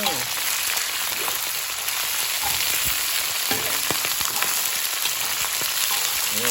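Chicken feet frying in hot oil with salt, kaffir lime leaves and lemongrass, a dense, steady crackling sizzle close by, with occasional clinks of stirring and faint talk.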